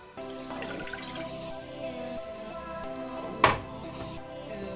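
Water, three-quarters of a cup, trickles and drips steadily into a saucepan, a faint running pour with a brief clatter partway through.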